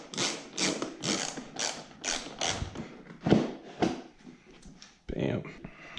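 A hand ratchet clicks in rapid repeated bursts while working on a 2017 KTM 150 XC-W dirt bike during a cylinder head installation, close and fairly loud with brief pauses between strokes.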